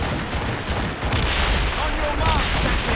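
Musket volleys crackle in dense, overlapping bursts across a battle in Assassin's Creed Rogue, loud and continuous, with shouting voices mixed into the gunfire.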